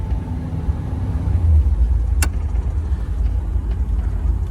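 A 1986 Monte Carlo SS engine in low gear rumbles steadily while driving, a loud, close, continuous low drone with a brief sharp click partway through.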